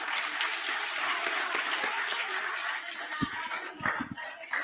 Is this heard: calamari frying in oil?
no